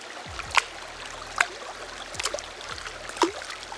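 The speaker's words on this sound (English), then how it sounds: "I really just wanted to get some sounds of rocks falling in the water into running water." Rocks drop one by one into a running stream, giving about four sharp splashes and plops over a steady, quiet rush of flowing water, close to the microphone and with no talk.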